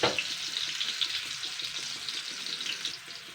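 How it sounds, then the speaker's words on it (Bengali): Food lightly frying in a pan while making chicken pulao from leftover rice, a steady soft sizzling hiss that stays even throughout with no talking. "এটাকে জাস্ট একটু হালকা ফ্রাই করে নেব"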